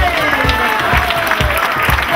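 Audience applause and cheering at the opening of the Capital Club, a dense continuous wash of clapping filling the whole moment with steady crowd noise.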